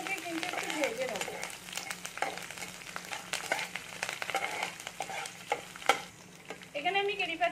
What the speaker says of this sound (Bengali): এখানে আমি সবগুলোকে কিন্তু একটু ভেজে নেব।